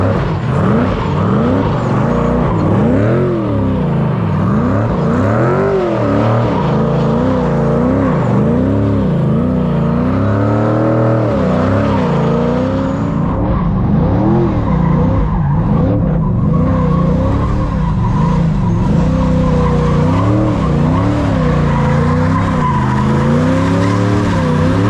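A DeLorean driving the North West 200 circuit in Ireland, its engine revving and wavering continuously with tires skidding and squealing, loud and close throughout, with no talk.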